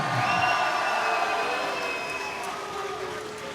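A large crowd cheers and roars loudly for fighters entering at an MMA event, a sustained wash of whistles and shouts that slowly fades slightly.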